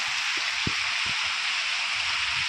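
Steady, loud rushing water falls over a dam, roaring without a break in a broad constant wash with a few low thumps beneath it.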